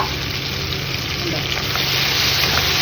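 Mustard seeds and urad dal sizzling in hot oil, a dense, steady crackling hiss that holds close and loud throughout without pause.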